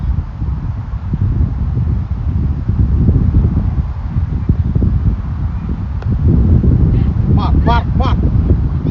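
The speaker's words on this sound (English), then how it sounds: "Very windy today." Strong gusty wind buffeting the microphone in low, rumbling bursts throughout an under-13 cricket match, with a brief faint honking or call near the end.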